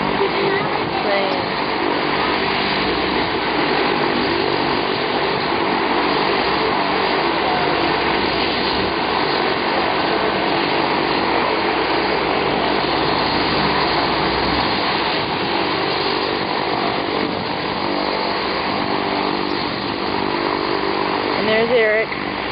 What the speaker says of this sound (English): That little bitty plane.